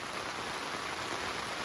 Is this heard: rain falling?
yes